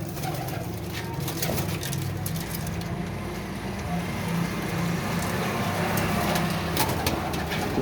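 Golden flying pigeons kept for sale in Faisalabad coo softly and repeatedly, a low murmuring purr over steady background hiss with occasional faint clicks, and no talking.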